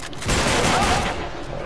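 Machine gun fire in the video game Uncharted 3: a short, loud, rapid burst of gunfire that rattles on steadily throughout.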